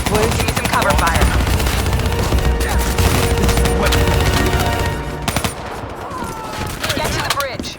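Sustained automatic gunfire in a Call of Duty: Black Ops 3 firefight, dense rapid bursts close by and loud throughout, with a brief lull and renewed shots near the end.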